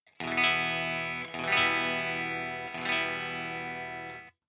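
Electric guitar played through an amp simulator on a clean tone with coils split, ringing three sustained chords that each bloom and slowly decay, clear and close with no talking.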